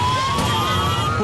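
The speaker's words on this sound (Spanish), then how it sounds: "Llegaron los bomberos, ambulancias." Wailing emergency sirens of arriving fire engines and ambulances outside a prison during a riot in Ecuador, a loud steady tone sweeping slowly upward and sounding continuously with dense background noise.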